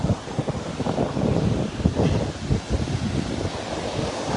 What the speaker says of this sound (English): See how the sea is coming.